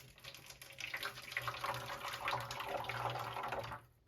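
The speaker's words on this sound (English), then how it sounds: "Always want to make sure you keep these guys filled up with water." Water poured into the moats of an Innovations Pro Series digital incubator, a close, fluctuating trickle and splash lasting several seconds before cutting off, with a low hum underneath.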